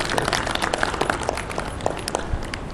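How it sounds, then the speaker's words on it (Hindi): A crowd at a yoga camp breaks into applause, a dense patter of many hands clapping at moderate volume for a few seconds without talk over it. "सब इनके लिए ठोको ताली जरा।"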